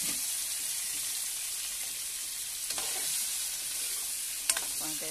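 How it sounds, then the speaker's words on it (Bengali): Paneer cubes frying in hot oil in a wok, a continuous even sizzle with a couple of faint clinks from stirring near the end. "এই যে এদিকে কড়াইতে তেল দিয়ে দিয়েছি। আমি পনিরগুলোকে প্রথমে ভালো করে ভাজা করে নেব।"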